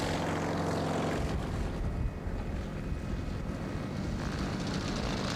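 A propeller-driven aerobatic aeroplane with sprung titanium undercarriage performs at an air show, its engine a steady loud drone with heavy wind buffeting throughout, shifting in pitch as it passes.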